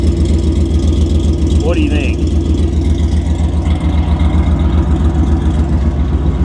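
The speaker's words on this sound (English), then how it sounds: "I believe that's a Flowmaster muffler." A car engine idles with a deep, steady exhaust rumble through a 3-inch exhaust and Flowmaster muffler, loud and close, while someone speaks briefly over it.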